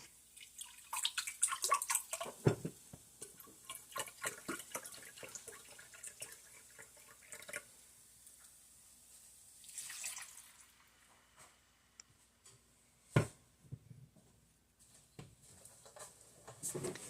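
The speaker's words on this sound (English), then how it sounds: "And now I can add the vegetable broth." Vegetable broth poured into a paella pan for a quick sausage paella, a soft watery splash and trickle near the start, followed by intermittent drips, clinks and faint kitchen handling noises with no talk.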